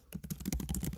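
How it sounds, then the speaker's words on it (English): Rapid typing on a computer keyboard, a quick irregular stream of soft close key clicks and taps over about a second, alone without talk. "Sorry, I had to hear all of that typing."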